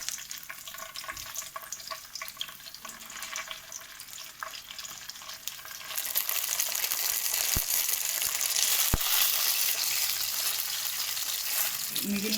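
Stuffed brinjals (gutti vankaya) and curry leaves sizzling in an oil-filled pan, a steady close frying hiss that swells louder midway, with a couple of sharp clicks and no talking.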